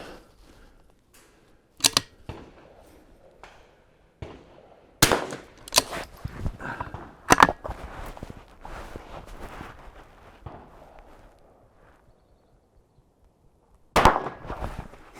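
Sharp .22 rifle shots on an NRL22 course, fired from the support side, a handful of isolated cracks spaced seconds apart amid quiet handling and shuffling noises.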